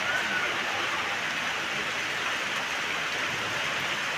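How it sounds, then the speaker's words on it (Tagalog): Steady, even rain hisses continuously, a dense wash of drops falling close by without letup. "Ulan pa rin."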